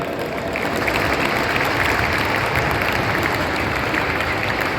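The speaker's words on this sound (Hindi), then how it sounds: "पहले अपने आप के लिए तालियां बजाओ." An indoor audience at a jump rope championship event applauding themselves, dense steady clapping from many hands filling the space at full volume without pause.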